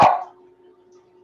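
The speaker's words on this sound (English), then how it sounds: "As soon as I can get my dog to shut up." A single sharp dog bark, loud and close, opens and fades quickly into a faint lingering hum.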